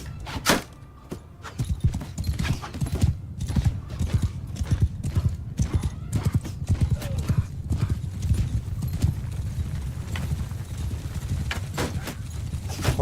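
Massed hooves of galloping horses pound in a fast irregular clatter during a battle in Mount & Blade II: Bannerlord, dense and continuous with occasional whinnies and light background voice.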